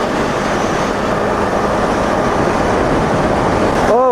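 A road train truck rumbles past while riding a Yamaha R3 motorcycle, a loud, steady broadband roar of wind and engine that stays close throughout.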